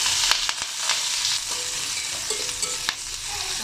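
Whole cumin, onion and green chili frying in oil in a wok, a steady close sizzle with occasional stirring clinks and scrapes.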